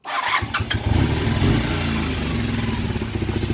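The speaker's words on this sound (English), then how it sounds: "She's starting, she's ticking over." A Honda CB250N motorcycle engine cranks and catches, then settles into a steady, throbbing tick-over close by, with a loud continuous low rumble and no talking.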